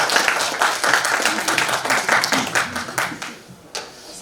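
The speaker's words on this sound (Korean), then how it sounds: "박수로 한번." A crowd at a Sewol ferry memorial gathering in Korea applauds during a water purification ritual, close and loud rhythmic clapping that gradually thins out, with a few scattered final claps near the end.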